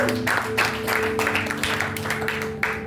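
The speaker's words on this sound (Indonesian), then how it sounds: "Tepuk tangan dulu" A church congregation at a Sunday worship service in Gading Serpong breaks into applause, with bursts of clapping over sustained keyboard chords, moderately loud and spread through the room.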